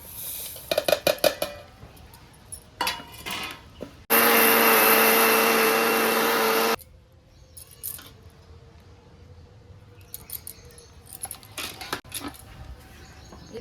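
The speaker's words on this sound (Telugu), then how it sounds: "చల్లగా అయిపోయిన తర్వాత మిక్సీ పట్టుకోవాలి" A mixer grinder roars loudly for about three seconds, grinding roasted sesame seeds, with clinks and clatter before and after it and someone speaking quietly in the background.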